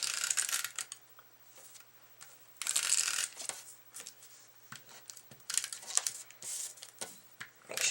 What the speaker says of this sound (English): So now let's go ahead and tape this down.